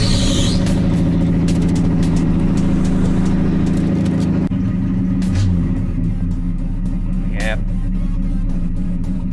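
1986 Ford truck engine cold-started on choke, a loud close rumbling idle that runs steadily, then drops in level partway through, with a brief spoken reply over it.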